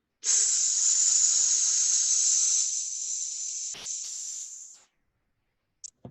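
A person imitates a snake's hiss while breathing out slowly, a long steady hissing exhale of several seconds that fades out, followed by faint brief sounds.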